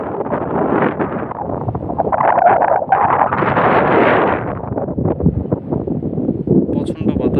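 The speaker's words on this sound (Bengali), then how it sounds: "প্রচণ্ড বাতাস এখানে, আর প্রচুর নিরিবিলি" Strong wind on an open village riverbank beside a small river, a loud, continuous roar that buffets the microphone and swells in gusts throughout.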